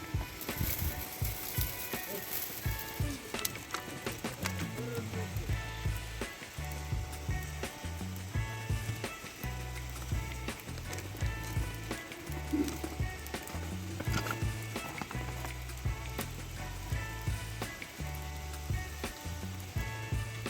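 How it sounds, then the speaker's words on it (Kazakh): Meat frying outdoors over an open fire for Kazakh kuyrdak on a slightly windy day: a continuous, moderately quiet sizzle and crackle with wind buffeting and uneven low thumps throughout. "ет қуырылып жатыр."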